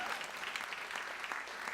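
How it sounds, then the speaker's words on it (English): A homecoming talk audience at Eastern Mennonite University gives a round of applause, a dense, faint, steady patter of many hands. "Give them a round of applause."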